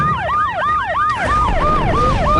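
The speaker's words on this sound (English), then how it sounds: "Those sirens are so loud." A loud in-game siren from Max Payne cycles in quick repeating swoops, two tones layered together, over a low rumbling background.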